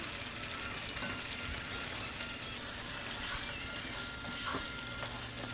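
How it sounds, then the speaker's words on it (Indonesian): Chicken pieces sautéing with spice paste in a pan for spicy Manado-style ayam woku, a steady soft sizzle with occasional stirring scrapes, fairly quiet and continuous throughout. "Ini aku masukin ayamnya, terus nanti ayamnya aku tumis sebentar."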